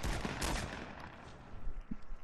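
Gunfire in a battle royale video game, a dense continuous rattle of shots that thins toward the end, with scattered bangs and no voices.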